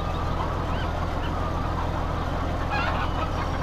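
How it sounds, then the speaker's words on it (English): Chickens in a barn in Farming Simulator 2015 cluck faintly beneath a steady, dense hum of game ambience, with no talk. "Chickens, you're making a little noise."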